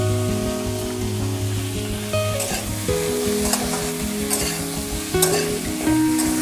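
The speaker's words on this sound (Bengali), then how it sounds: "কুমড়াগুলো আমার ভাজা হয়ে গিয়েছে" Pumpkin pieces seasoned with salt and turmeric fry in oil with a steady, close sizzle and occasional stirring scrapes, while soft tonal music plays underneath throughout.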